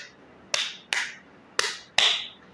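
Four sharp hand claps, crisp and fairly close, in an uneven rhythm of two pairs, with quiet room tone between them.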